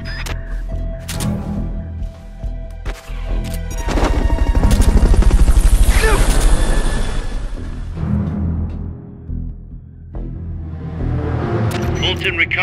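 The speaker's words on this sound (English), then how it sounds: "Fulton recovery to helicopter is complete." Fulton recovery sequence in the video game Metal Gear Solid: Peace Walker, with a loud swelling whoosh and rumble as the subject is lifted away to the helicopter, among game sound effects and voice.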